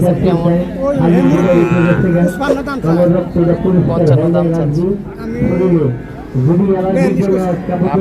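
Calves, including a local breed, at a busy rural cattle market in Hazratpur, lowing amid continuous nearby talk and crowd chatter throughout.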